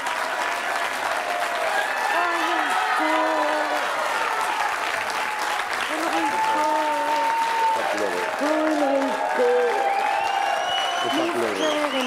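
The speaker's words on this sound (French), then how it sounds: "je vous demande de l'accueillir et de l'applaudir très très fort" A French television studio audience breaks into loud, sustained applause and cheering for an arriving guest, with voices audible over the continuous clapping.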